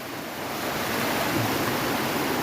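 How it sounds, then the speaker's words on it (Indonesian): Rain falls steadily near the water at a fishing spot, giving a dense, even hiss that swells slightly and continues without a break. "Hujannya turun lagi bos."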